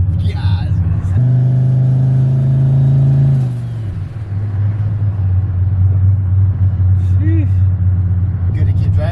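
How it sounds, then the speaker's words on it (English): A GMC Yukon's engine fires up for the first time, a loud deep exhaust rumble that settles into a steady idle drone, with brief voices in the background. "Wait till it has a full exhaust and that's all you hear."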